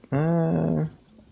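A dog in the video game Kingdom Come: Deliverance II lets out one loud, close growl lasting almost a second, then falls quiet.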